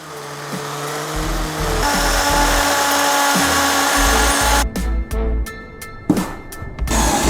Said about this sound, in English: Thanks to the wrench, you can easily drill smoothly